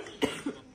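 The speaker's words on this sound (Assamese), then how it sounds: "কাহি আছে চা" Two short, close coughs from one person, a stronger hack followed by a softer one, in a quiet setting.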